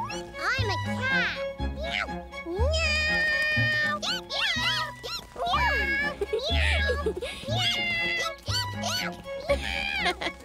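A cartoon character imitates a cat with repeated sung meows over a light musical backing, and children's voices speak between the meows.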